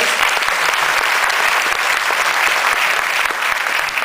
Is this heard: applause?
yes